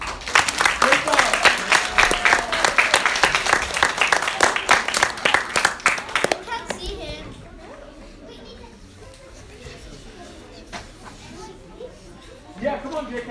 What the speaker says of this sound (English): let's give him a really big round of applause